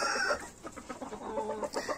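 Isabel chickens cluck in a busy flock close by, with overlapping calls and what may be a rooster's crow near the start, rising and falling in short bursts.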